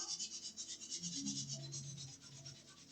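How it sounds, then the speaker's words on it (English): Sandpaper rubbed by hand over a gessoed wooden icon panel, a steady rhythmic rasping scratch repeating in quick strokes, close and moderately loud with no talk. "so we'll go back to the sandpaper"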